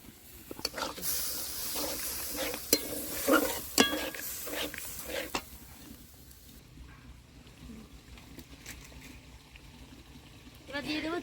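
Yogurt and salt stirred into a hot pan for doi katla, a Bengali fish curry, with bursts of sizzling and spoon scrapes early on that settle into a quieter simmer, heard without speech.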